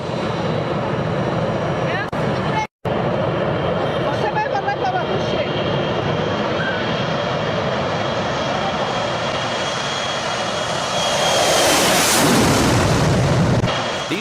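A fixed-wing airplane takes off very slowly, its engine droning loud and steady throughout, with a brief dropout partway and a swelling roar near the end.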